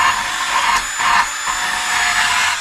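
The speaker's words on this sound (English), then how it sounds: "This little drill brush is doing a pretty good job" A small drill-mounted brush spins against an engine part in a garage, scrubbing off old silicone gasket material; a steady, loud whirring grind with brief dips in pitch and load as the brush shifts.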